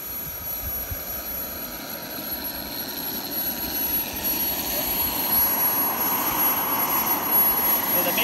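A Whiplash model jet turbine engine idles steadily while cooling down at a model aircraft show, a continuous broadband whine and rush that holds even and fairly loud throughout, with a faint high-pitched tone above.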